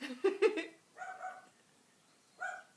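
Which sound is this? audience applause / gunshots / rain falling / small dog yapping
small dog yapping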